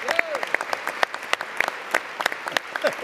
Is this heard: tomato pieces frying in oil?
no